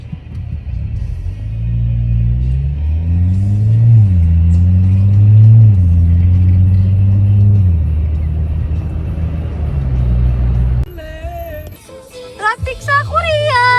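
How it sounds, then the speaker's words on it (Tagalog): Road traffic in Seoul, Korea, heard from inside a car: a low engine rumble that rises and falls as the car accelerates, then a bright, shifting sound near the end, with people talking over it. "Traffic sa Korea!"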